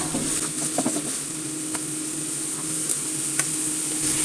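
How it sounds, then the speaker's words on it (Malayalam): A large, finely chopped onion sautéing in a pan, giving a steady, close hiss and sizzle with faint scattered taps from stirring. "പൊടി പൊടിയായി അരിഞ്ഞ ഒരു വലിയ സവാളയാണ് അതിട്ട് കൊടുക്കാം അത് നമുക്ക് ഒന്ന് നന്നായി ഒന്ന് വഴറ്റിയെടുക്കാം"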